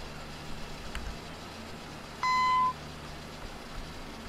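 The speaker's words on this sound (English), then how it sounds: "Let me go ahead and turn that off for you so you don't have that beeping in your eyes, so you don't have that beeping in your head" A jetway warning beep at a Miami gate in the Prepar3d v3.4 flight simulator: a single short, clear electronic tone over a low, steady background hum.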